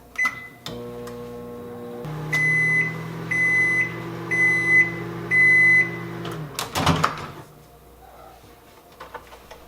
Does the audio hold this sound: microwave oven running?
yes